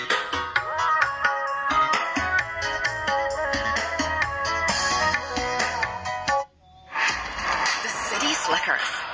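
Music plays back through a repaired 4-inch speaker fitted with a new voice coil, after fixing a fault that caused distorted sound. The music is full and loud and continuous, with a short drop near the end before it resumes.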